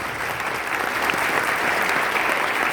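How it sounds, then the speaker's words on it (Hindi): An audience at a success-story talk breaks into loud, sustained applause, a dense wash of many hands clapping without a break. "जोरदार ताली होनी चाहिए उनके लिए"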